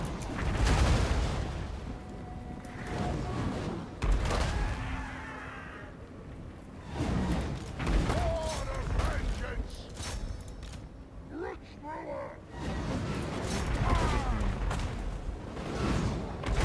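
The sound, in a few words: gunfire from shooting in Warhammer video game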